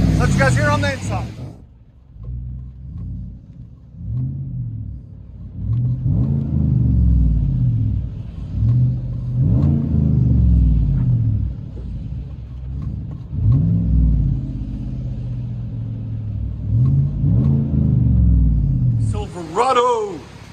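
Inside the cab of a 2018 Chevy Silverado 5.3L V8 with a Vibrant bottle resonator exhaust, a deep muffled rumble swells through several revs, with speech at the start and end.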